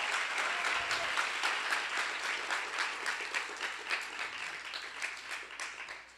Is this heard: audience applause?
yes